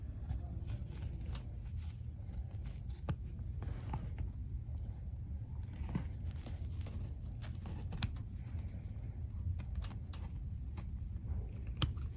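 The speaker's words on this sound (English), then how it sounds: "first of all, trim outside the shape with the scissors" Scissors snip through quilted fabric for a machine-embroidered table runner, giving scattered soft crisp clicks spread across the stretch over a low rumbling background, close and quiet.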